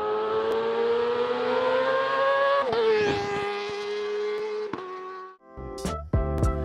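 A Kawasaki ZX-25R 250cc four-cylinder motorcycle engine screams at high rpm toward 17,000, holding a loud sustained wail, then dropping and blipping sharply in short revs near the end.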